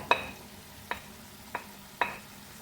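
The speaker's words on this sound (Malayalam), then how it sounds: "നമുക്ക് വറുത്ത് വെച്ചിരിക്കുന്ന പ്രോൺസ് ഇതിലേക്ക് ചേർത്ത് കൊടുക്കാം" Fried prawns for a Kerala-style chemmeen roast with shallots are tipped into a hot pan and stirred, giving three or four quiet, separate scraping clinks against a faint background sizzle, with no talking.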